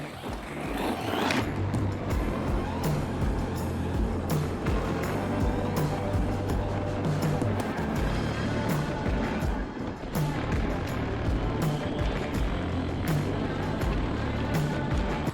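A Traxxas Stampede RC truck runs on a 3S battery across rough outdoor ground, its motor producing a continuous loud whirring rumble with shifting pitch and gritty broadband noise throughout.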